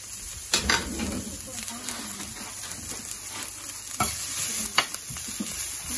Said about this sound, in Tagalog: Yung tama lang ba na magisa ng konti yung sibuyas